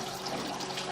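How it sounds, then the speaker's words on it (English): Water drains steadily through a pipe, a soft continuous trickling wash with faint gurgling, fairly quiet and close, with no voices over it. "we do have water draining still"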